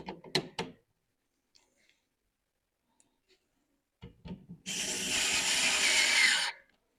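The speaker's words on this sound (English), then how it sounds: "the job is much easier with the electric screwdriver" Electric screwdriver driving screws to mount the back plate of a Legrand Radiant LED night light outlet faceplate, a few faint clicks and handling knocks, then a loud sustained whir for about two seconds that stops abruptly.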